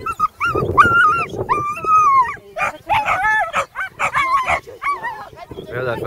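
Sheepdogs bark and yip repeatedly while herding sheep on a family's first outing with the flock, the barks coming in close, loud bursts with some whimpering, mixed with people talking nearby.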